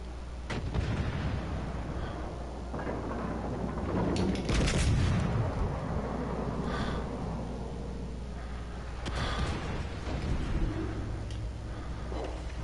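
Naval warship guns firing in World of Warships: Legends, heavy booming salvos and rumbling explosions, loud and close with distant echoes, under sporadic game effects and a voice.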